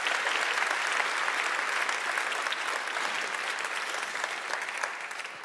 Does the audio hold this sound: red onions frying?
no